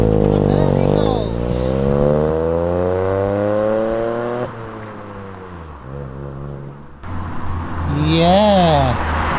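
A Ford Fiesta EcoBoost pulls away close by, its engine revving and climbing in pitch with a scrape against the floor, then easing off before voices speak over the fading car.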